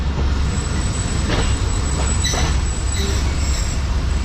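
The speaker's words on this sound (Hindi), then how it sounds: "ट्रेन हमारी एज़ यूजुअल स्टेशन के आउटर पर आकर रुक चुकी है लाहौर जंक्शन के" Pak Business Express train rolling to a stop at the outer signal of Lahore Junction, a constant loud low rumble with brief faint squeals of wheels and brakes.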